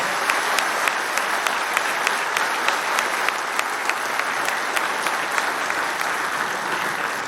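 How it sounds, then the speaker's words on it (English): Sustained audience applause fills a university convocation hall, a steady dense wash of clapping with a few sharper individual claps standing out, continuous and fairly loud throughout. "Let's all give a big round of applause to all your parents"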